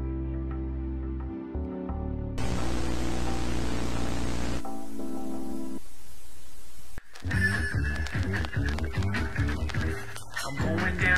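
A burst of harsh, hissing static distortion in an analog horror South Park short film, cutting in for a couple of seconds between stretches of music before the music resumes.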